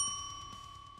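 A bright notification-style bell ding rings out once, its clear tone lingering and slowly fading over about a second, with no voices present.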